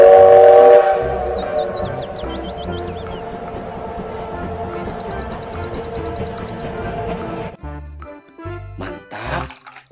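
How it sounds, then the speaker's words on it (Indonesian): A Thomas toy train whistle toots loudly at first, then a chugging, rattling engine sound continues with chirpy electronic tones, ending in a few short bursts. "Ada kereta api Thomas"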